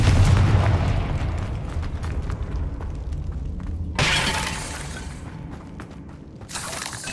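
A Confringo spell goes off in Hogwarts Legacy as loud, shattering explosive blasts with crackling debris, one heavy burst followed by a decaying rumble and another sudden burst near the end.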